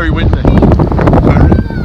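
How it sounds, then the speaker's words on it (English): Strong wind on a beach in Tenerife buffets the microphone in a heavy, constant low roar, with a voice talking over it. "But it is very windy."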